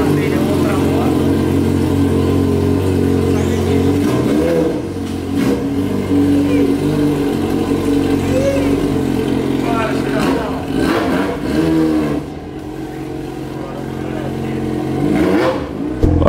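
Yamaha XJ6 motorcycle engine idling and revving in a garage as the bike is moved out, a loud close rumble with surging revs and mechanical clatter under someone talking.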